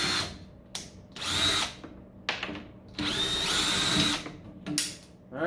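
A power drill backs screws out of a large battery charger's case in several short whirring bursts separated by brief pauses, close and fairly loud, with no talk.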